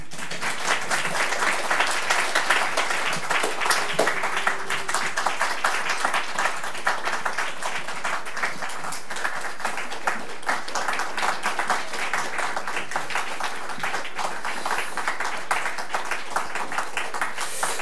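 A congregation applauds steadily at a missionary ordination and sending service in a Baptist church, the clapping dense and sustained from start to finish with no talk over it.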